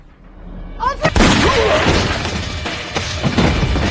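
A film scene erupts with a sudden sharp crash-like bang, followed by scattered impacts and debris noise, loud and close, over a quieter build-up at the start.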